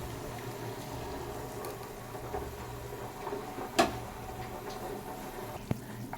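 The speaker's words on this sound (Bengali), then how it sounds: "ভাতের জলটা ফুটে গেছে," Water for cooking rice bubbles at a soft, steady boil in a pot, with a couple of faint clinks over the simmer.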